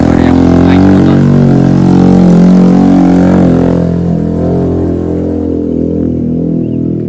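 A motorcycle rides up a small village road in the Dieng Plateau. Its engine drones loud and close at first, then gradually fades as it moves away.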